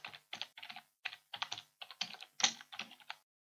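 Typing a file name on a computer keyboard: quiet, close keystrokes in quick irregular bursts for about three seconds, then silence.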